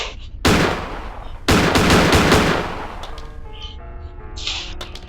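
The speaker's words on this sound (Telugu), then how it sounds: "దాన్ని అయితే షూట్ చేద్దాం పిచ్చి పిచ్చిగా." Gunfire from a gun in the video game Granny: two loud bursts of rapid shots, the second longer and sustained, followed by quieter game sounds and ringing tones, with no talk.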